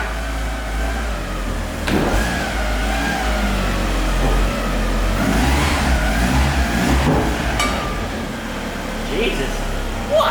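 A Mitsubishi Mirage Evo held at high revs on a dyno, its engine droning loud and steady with a deep rumbling bed underneath, rising and falling slightly throughout.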